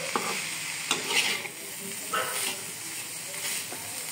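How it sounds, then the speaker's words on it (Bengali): Shrimp frying in oil with salt and turmeric give a steady close sizzle and hiss, broken by occasional clinks and scrapes of stirring. "তারপর সব চিংড়ি মাছগুলো ভেজে নিচ্ছি"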